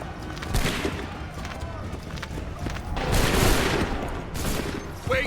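A musket volley rings out in the video game Assassin's Creed 3, with loud crackling bursts of gunfire and a dense battle din throughout, mixed with shouted voices and the thud of running.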